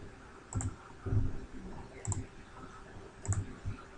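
Computer mouse clicks sound close and crisp, three or four small clicks spread unevenly over a few seconds, with no talking.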